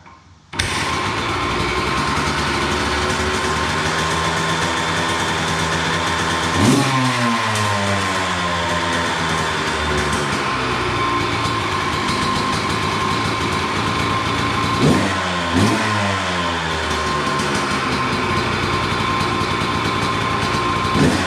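A 2007 Honda CR125R two-stroke motorcycle engine fires up and runs loud and close, with two sharp revs that rise and fall back to a raspy idle.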